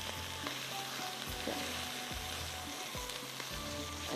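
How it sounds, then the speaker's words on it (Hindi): Hand-pounded minced meat (keema) fries in a pan with a steady, dense sizzle, broken by periodic scraping and stirring strokes, close up with no voices. "ये जो कीमा जो है ना हमारा, ये है हाथ का कुटा हुआ, तो थोड़ा सा इसमें टाइम लगेगा भूनने में"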